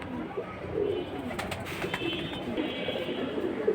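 Khaki military pigeons coo softly in a loft or market setting, repeated low throaty calls over a murmuring background.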